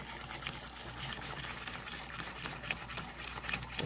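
Quick five-minute grits being whisked in a pot, a soft continuous swishing and scraping with faint liquid sloshing, steady and close with brief louder clicks toward the end.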